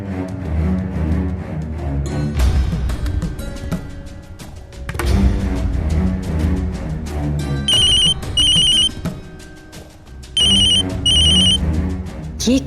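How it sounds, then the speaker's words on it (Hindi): A telephone ringtone repeats in loud electronic bursts over a television drama's background music and sound, with gaps between rings. "कौन फोन कर रहा है सौम्या को?"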